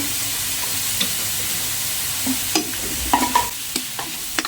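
Pork ribs stir-fried with curry chili paste sizzle steadily in a hot pan, with a constant frying hiss and intermittent scraping clinks of a utensil stirring, close and alone.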